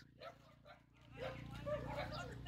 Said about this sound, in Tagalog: Ang daming alaga ni nanay na aso.